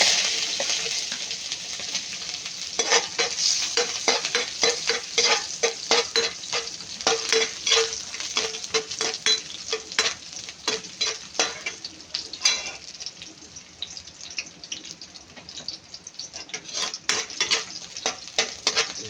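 Garlic sautés in hot oil in a wok while it is stirred. A steady sizzle runs under repeated metallic scrapes and clanks of the utensil against the pan, coming in irregular bursts.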